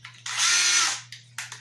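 A DeWalt 12V Xtreme impact wrench whirs in a short burst of about half a second after a brief blip, followed by two quick trigger pulses, close and loud with no talk.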